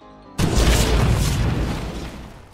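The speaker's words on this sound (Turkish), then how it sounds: "Ama tank patladı arkadaşlar." A tank blows up in GTA 5, one sudden loud boom followed by a long rumbling decay that slowly fades, heard alone without talk.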